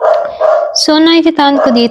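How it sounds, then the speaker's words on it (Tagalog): A dog barks and yips nearby, loud and repeated, mixed in with a person talking over it. "pasensya na sa ingay ng aso"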